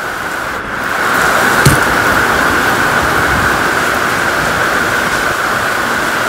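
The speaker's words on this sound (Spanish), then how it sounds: "Está lloviendo" Heavy rain pours down steadily in a dense, continuous roar, with a brief sharp knock early on and no voices.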